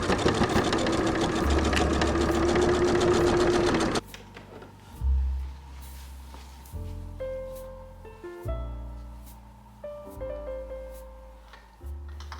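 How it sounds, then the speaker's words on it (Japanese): A sewing machine stitches the side seams of fabric: a loud, rapid run of stitching, then a pause, then several shorter bursts of whirring stitches with brief gaps between them. "脇を縫おう。"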